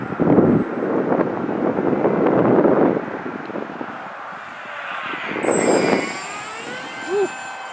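Wind rushes past the microphone in gusts while a Mini Dragon model plane flies, with a high electric motor whine rising near the end. A voice talks briefly over it.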